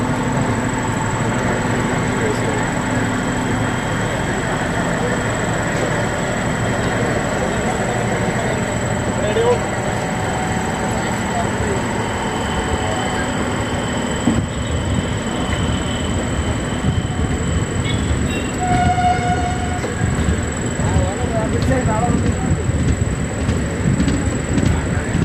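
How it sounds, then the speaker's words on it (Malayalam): Train 16528, Kannur to Yesvantpur, pulls out of Koyilandy station toward Kozhikode with a steady, close rolling rumble of carriages, and a brief, faint horn-like tone near the end, while people talk quietly in the background. "അങ്ങനെ കൊയിലാണ്ടിയിൽ നിന്ന് നമ്മുടെ വണ്ടി എടുത്തു."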